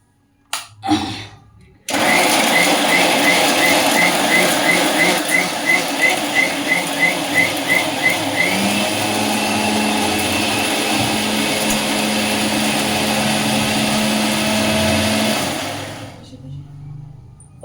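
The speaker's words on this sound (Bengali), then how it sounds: "এখন এটাকে ভালো করে পিষে নেব" An electric mixer grinder whirs loudly and steadily as it grinds spices for a fish masala curry, starting abruptly, running for about fourteen seconds with a brief pulsing stretch, then winding down and stopping.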